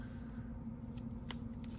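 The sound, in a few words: scissors cutting strips of batting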